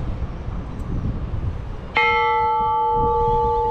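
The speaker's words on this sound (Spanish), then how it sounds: "Y aquí está la campana." A church bell in Campeche rings once with a sudden loud clang, its bright metallic tone sustaining steadily after quieter outdoor background.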